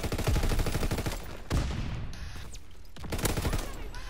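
Rapid gunfire from a Call of Duty: WWII multiplayer match, loud bursts of automatic fire that cut out briefly around the middle, then resume, with game sounds between.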